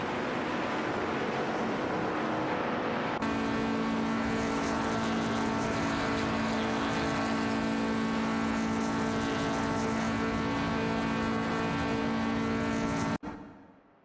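Race cars in a racing video game, engines droning steadily and loud with a sustained tonal whine throughout, several cars bunched together, ending abruptly.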